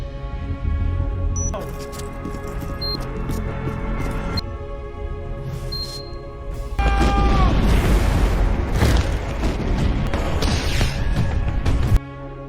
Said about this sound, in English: Martin and his team quickly leave the area before a bomb planted there detonates.